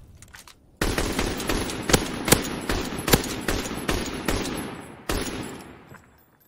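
Rapid automatic gunfire in a Call of Duty match, a loud, close, sustained burst of sharp shots with a few harder cracks, cutting off near the end and fading into a short echo.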